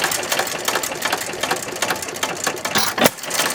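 A 1919 Domestic side shaft hit and miss engine runs close by, giving a steady, busy mechanical chatter with rapid repeated clicks and one sharper pop near the end.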